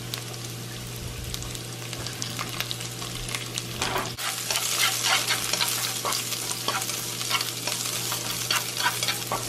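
Ginger and lemongrass sizzle in a hot pan while being stir-fried, with steady frying hiss and scraping stirs that grow louder and busier partway through, close and with no voices.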